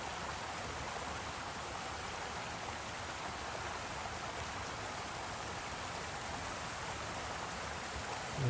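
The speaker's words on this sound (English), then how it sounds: "So this is a waterfall." A waterfall on a hiking trail sends up a steady, broadband rush of falling water, constant and fairly loud throughout, with no voices.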